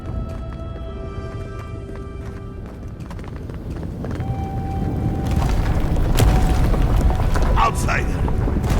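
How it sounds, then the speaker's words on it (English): A big explosion booms in the fantasy video game Avowed, a loud, broad rumble swelling midway and holding under clanking game ambience and sharp transient hits. "That was a damn big explosion, wasn't it?"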